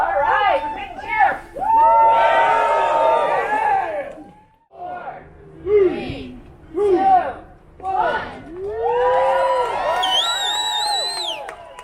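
Crowd of race participants and support team at the Moab 240 start letting out a big cheer, many voices yelling and whooping together in loud surges with brief pauses between them.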